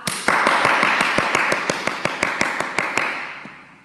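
Schoolchildren at an assembly clap in unison, about a dozen sharp, evenly spaced claps ringing out over a steady background hiss, loud and close, fading slightly toward the end.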